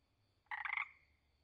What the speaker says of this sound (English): Eastern dwarf tree frog.